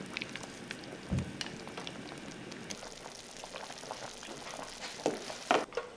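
Quiet bubbling of water boiling in a pot as chicken feet blanch, with a few faint clinks and splashes near the end; no talking.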